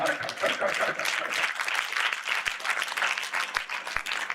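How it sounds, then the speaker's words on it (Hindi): Church congregation at a sermon clapping loudly for a blessing, a dense, continuous roar of many hands with a few sharp low thumps, the crowd's voices mingling in. "ब्लेसिंग के लिए ताली कितनी जोर से बजती है।"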